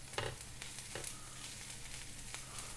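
Onions sizzle in a hot pan on high heat while cooking tawa paneer, giving a steady, fairly quiet frying hiss with a few soft clinks of stirring.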